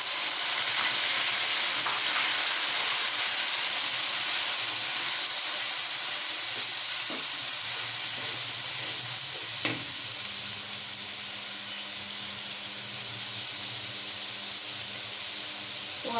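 Garlic ginger paste fries with browned onions in a pan for arvi masala, giving a steady, close sizzle and hiss throughout, with occasional stirring clinks and soft scraping.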